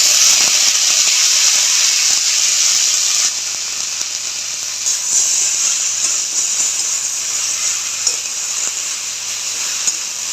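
Chopped onion and ridge gourd fry in a pan for an egg and ridge gourd dish. A loud, steady sizzle holds close and even throughout, with no voices over it.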